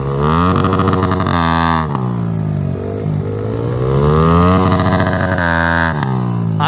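A motorcycle engine revs hard and loud close by as the rider lifts into a wheelie, with sharp throttle bursts at the start and end around a falling, wavering engine note.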